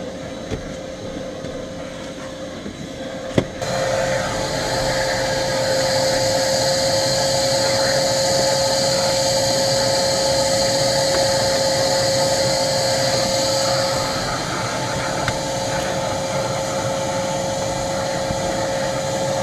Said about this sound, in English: now we'll finish up with a quick vacuum.